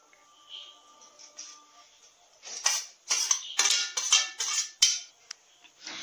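Cut green bean pieces tumble into a cooking pan with a burst of rustling, clattering impacts for several seconds, preceded by quieter kitchen handling.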